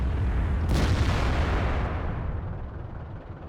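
A tank gun fires in World of Tanks: one sharp, loud blast followed by a long rumbling decay that fades away.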